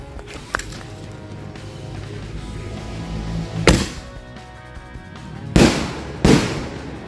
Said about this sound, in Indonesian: selanjutnya kita nyalakan mercon bola launcher